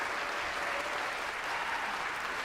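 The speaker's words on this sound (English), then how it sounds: "can we give him another round of applause?" Concert audience applause, a steady dense wash of many clapping hands sustained evenly throughout, fairly distant and without talk.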